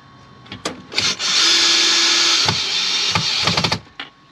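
A power drill bores into a drawer system for a lithium battery install behind a seat, with a sustained whine of about two seconds framed by short trigger bursts and clicks.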